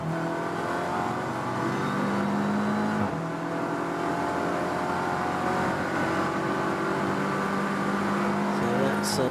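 Race car engines at Silverstone during a 750MC Club Enduro race, with steady, loud, droning harmonics and a pitch drop around three seconds as a car passes, continuous throughout with no talk.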